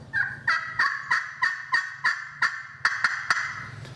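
A run of about ten quick, raspy turkey clucks and yelps from a vintage hand call, close up, in a fairly steady rhythm with a sharper burst near the end.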